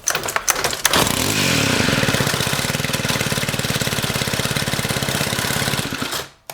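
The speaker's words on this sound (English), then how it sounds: "when the engine's idling, it should not be spinning" A STIHL FS91R string trimmer starts with a few pulls, then its small two-stroke engine idles with a fast, steady, rattling putter up close, with a trimmer head that won't stop spinning, before cutting off abruptly.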